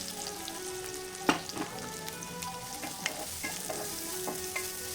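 Thinly sliced radish (mullangi) frying in a pan, a continuous close sizzle with scattered stirring scrapes and clacks of a spatula.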